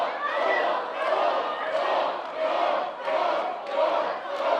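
Wrestling crowd at an NWL Kansas City exhibition match between Thor Theriot and ACH gives a loud, sustained shout and jeer, swelling and easing in waves.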